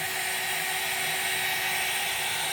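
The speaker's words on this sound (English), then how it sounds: "Now I'm going to use a little bit of the heat gun just to heat it up a little bit." A heat gun blows loudly and continuously over epoxy resin, a harsh airy whoosh with a steady whine, close up and alone.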